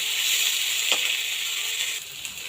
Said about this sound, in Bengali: তেল দিয়ে অল্প কালো জিরে দিয়ে দিয়েছিলাম তারপরে পেঁয়াজ কুচি কাঁচা লঙ্কা রসুন কুচি দিয়ে একটু ভালোভাবে এটাকে এখন আমি ভেজে নেব